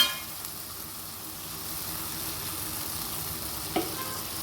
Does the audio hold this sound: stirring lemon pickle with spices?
yes